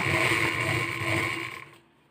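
A sewing machine stitching the side slit of a churidar, a steady close motor hum with a rapid needle rhythm that runs continuously and then cuts off, leaving near silence.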